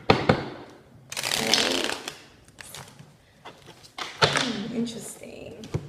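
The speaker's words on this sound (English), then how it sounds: "Cards don't want to shuffle." Oracle cards being shuffled in several bursts of riffling and flapping, with soft knocks in between, close up; a voice speaks during the pauses.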